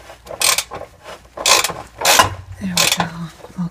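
A ratchet tool works a rusted exhaust stud on a Toyota in a few loud bursts of clicking and grinding, close by, with short pauses between the turns.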